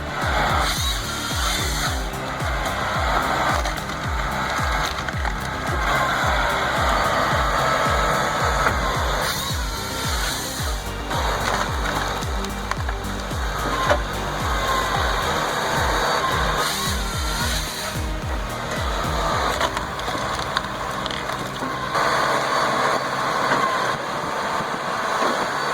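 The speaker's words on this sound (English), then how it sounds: "the splitter slams through like a hydraulic sledgehammer" A large hydraulic firewood processor works through logs with a continuous heavy engine and machinery drone, repeated thuds and cracks as wood splits, loud and constant throughout.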